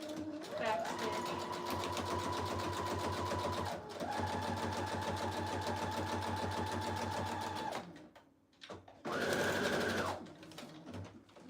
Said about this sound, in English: I'm gonna try to sew my page in here. Do a